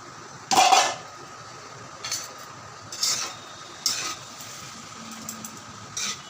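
Egg chicken hakka chow mein is tossed and stirred in a pan, giving several separate metallic clinks and scrapes spaced about a second apart over a faint low sizzle. The sound is fairly quiet and no one speaks.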